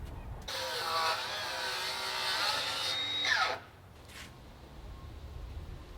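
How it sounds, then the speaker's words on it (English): A power saw cuts a 45-degree miter in a deck stair board, a loud whining cut lasting about three seconds that then spins down, leaving quiet outdoor background. "So first thing I'm going to do is cut my 45-degree miter."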